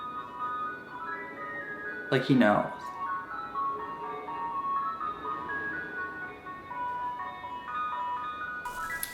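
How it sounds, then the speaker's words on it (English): An ice cream truck passes, its tinkly jingle playing steadily in the background while someone talks over it, with a brief loud rustle partway through. "This goddamn ice cream truck, every single time I film"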